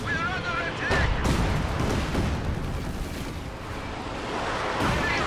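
Artillery shells slam into a tank during a Company of Heroes 2 battle, a dense, continuous roar of explosions and gunfire with heavy low-end rumble, sharper blasts near one and five seconds, and a voice talking over the din.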